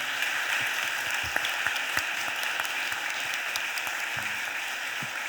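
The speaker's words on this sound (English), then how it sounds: "allow them to stand up and give them a round of applause" Applause for guests at a Philadelphia City Council meeting, an even, sustained wash of clapping from a room full of people with no talking over it.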